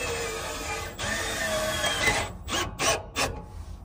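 Power driver pushing self-tapping screws into the steel roof of a shipping container for a solar-powered vent, a whirring grind that steadies, then breaks into short stuttering bursts as the screws bite, close and loud.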